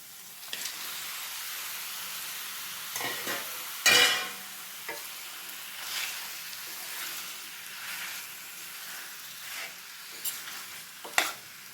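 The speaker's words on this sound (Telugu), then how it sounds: "దీంట్లోకి శుభ్రంగా కడిగి పెట్టుకున్న 1/2 కేజీ చికెన్ వేస్తున్నాను." Half a kilo of washed chicken goes into a pan of well-fried tomatoes, a steady broad sizzle running throughout with scraping stirs and a few louder clatters of the spoon, no voices.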